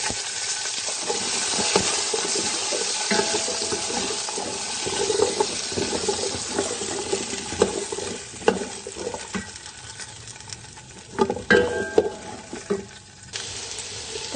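Carrots frying and being stirred in a pan while cooking mutton dhalca, with steady sizzling under irregular scrapes and clatters of the spoon, plus a brief running tap.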